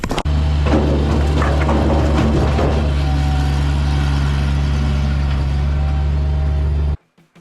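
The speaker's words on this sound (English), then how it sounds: "I absolutely love this mini skid steer" Mini skid steer engine running steadily near a firewood load, a loud continuous idle with some knocks of wood early on, then cutting off abruptly at the end.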